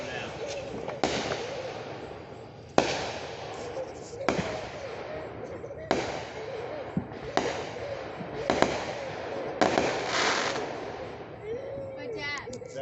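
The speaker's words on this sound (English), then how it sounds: "Rockets going now." Fourth of July fireworks rockets bursting in a series of sharp booms at irregular intervals, several seconds apart, with hissing crackle trailing after each and people talking nearby between blasts.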